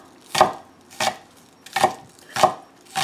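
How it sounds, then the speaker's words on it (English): Knife chopping fresh chives on a cutting board in a home kitchen, five crisp, evenly spaced chops about two-thirds of a second apart, close and clear with no talk. "chopping these up."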